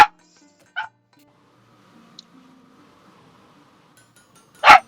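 Short dog barks from the video game Blacksmith Master: one opening yelp, another just under a second later, and a louder bark at the end, separated by near silence with a faint low game hum.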